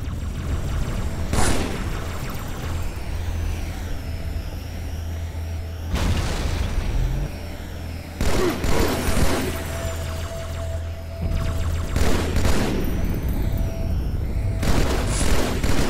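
Gunfire and heavy booms crack out in the shooter Halo 2 over a steady low rumble, with scattered sharp blasts and bursts spread across a tense, noisy battle.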